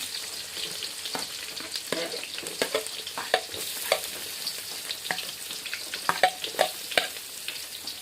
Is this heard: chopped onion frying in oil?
yes